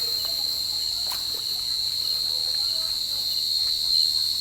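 Steady, continuous cricket chirping fills the air, a high shrill trill with faint scattered background noises and no talking.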